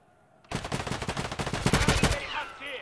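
Rapid automatic gunfire in the shooter video game Escape from Tarkov: Arena, a fast, evenly spaced string of loud close shots lasting about two seconds before tailing off.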